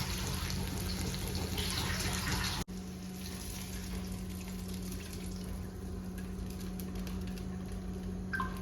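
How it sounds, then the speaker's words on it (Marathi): Water is poured into a pan of butter chicken as it cooks, a steady splashing flow that cuts off abruptly, followed by a quieter simmering hiss in a home kitchen. "थोडंसं शिजायला पाणी लागतं ना, म्हणून बघा एवढं पाणी टाकले"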